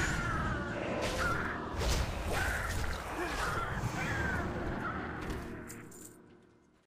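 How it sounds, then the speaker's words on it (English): Inside World of Warcraft, a crow caws several times in short harsh bursts amid busy game ambience and clinking, moderately loud, fading out toward the end. "Nasty bird!"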